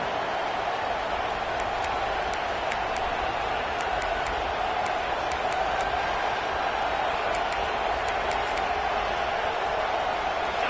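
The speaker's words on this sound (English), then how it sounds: "This crowd ready to make its presence known." A stadium crowd at a Howard University football game makes a steady, dense roar of many voices, broad and unbroken throughout, with faint ticking clicks scattered over it.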